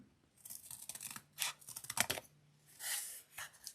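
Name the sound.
trimming with scissors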